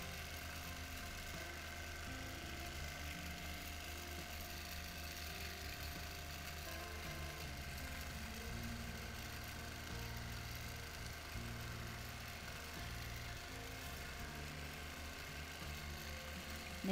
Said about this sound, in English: It can be a bit frightening to begin with when your machine starts just whirring away without you.